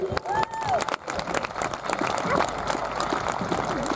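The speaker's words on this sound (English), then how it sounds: "Can I get a big round of applause for our first jumper in today?" An airshow crowd applauds a parachutist after the first jump, a steady wash of clapping through the whole stretch, with a brief whistling tonal sweep near the start.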